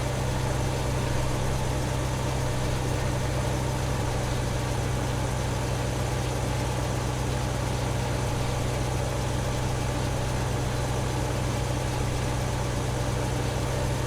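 A Unimog in Farming Simulator 2015 runs its engine while mowing a field, giving a steady, unbroken mid-to-low drone that holds at an even level throughout with no voices.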